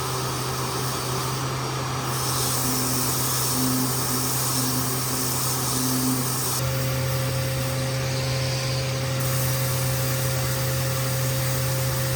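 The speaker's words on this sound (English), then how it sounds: "it's time to start grinding down the gel coat and fiberglass and get rid of those blisters" A power sander grinding down gel coat and fiberglass on a boat hull to remove blisters, a steady, loud continuous whir with a constant hum that holds unbroken throughout, close by with no talk.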